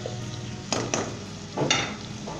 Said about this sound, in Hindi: दोस्तों अदरक लहसुन मैंने अच्छे तरीके के साथ फ्राई कर लिया।